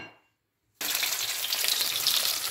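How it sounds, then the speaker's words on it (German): Eggplant sizzling in a hot pan, the vegetables for a spiced beef dish. After a short silence, a loud, steady frying hiss begins abruptly and continues evenly to the end, with no talking. "die Auberginen zu brutzeln bzw. das Gemüse in der Pfanne zu erhitzen"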